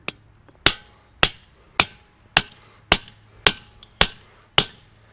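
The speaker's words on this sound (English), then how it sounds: "So that would be hitting it with a hammer." Hammer striking a spike through hybrid edge restraint, eight sharp, loud metallic blows at a steady rhythm about half a second apart, close and alone.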